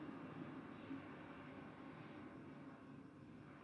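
Steady, broad airplane engine roar during a takeoff, a continuous low rumble with hiss that holds evenly throughout, somewhat distant.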